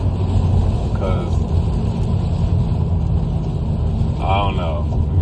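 A Honda Civic Si, a 2020 model, holds steady in third gear at 3,000 to 4,000 rpm, its low engine drone and road rumble constant and close in pouring rain, with talking over it.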